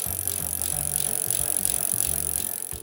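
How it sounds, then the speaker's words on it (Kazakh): A bicycle rolls along with a steady mechanical whir and light rattling, loud and close throughout, with no voices. "Велосипед."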